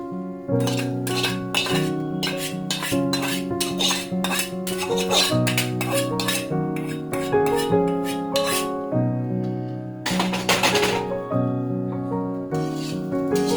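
A metal spoon clinks and scrapes against a pan while poha is mixed with egg bhujia, giving a run of quick, bright taps and knocks with a short pause partway through.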